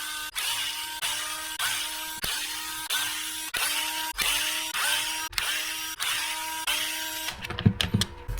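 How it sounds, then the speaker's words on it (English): Power tool backing screws out of a Kyosho Fazer D2 RC car body, close and loud: a series of about eight short whirring bursts with a steady rhythm, then rattling clatter of loose parts at the end, no talk. "we're going to start taking these screws that hold these two parts together all the way around the"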